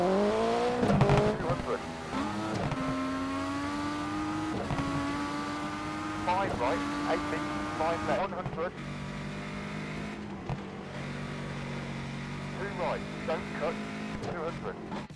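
Rally car engine in a mobile racing video game, a steady droning motor with rising and falling pitch through gear changes, with brief tire squeals, heard alone and close.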